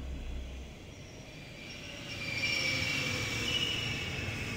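A train in the adventure game The Longest Journey rumbles along with a rising metallic wheel squeal and steady rail noise that swells partway through, moderately loud, with no voices.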